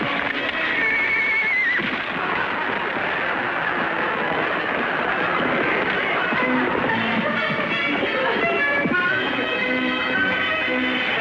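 A horse neighs loudly in a Western scene, its whinny rising and falling near the start, followed by continuous hooves clip-clopping and rolling commotion, with further whinnies layered over the busy background.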